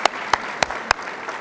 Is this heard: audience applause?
yes